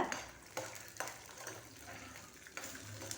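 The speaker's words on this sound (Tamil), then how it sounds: "காரத்துக்கு ஒரு நாலு டு அஞ்சு காஞ்ச மிளகாய் கொஞ்சம் பூண்டு கொஞ்சம் சின்ன வெங்காயம் சேர்த்து நல்லா வதக்கி எடுத்துக்கோங்க" Dried red chillies, garlic and small shallots sauté in a pan, a quiet steady sizzle with a few light scraping knocks from a stirring spoon at intervals.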